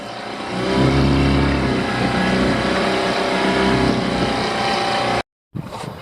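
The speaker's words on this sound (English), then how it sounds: "The motor is stuttering and not happy." A sailboat's outboard motor runs loud and rough, droning unevenly close by for several seconds, then cuts out abruptly before briefly sputtering again.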